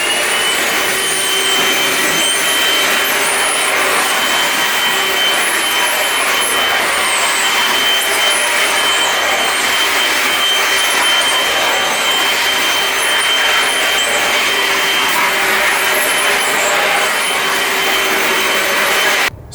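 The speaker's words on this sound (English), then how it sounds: "That's Milwaukee's M18 compact vacuum cleaner done and dusted." A Milwaukee M18 compact cordless vacuum cleaner runs loud and close for the whole stretch, a steady rushing whine with a high motor tone and no breaks.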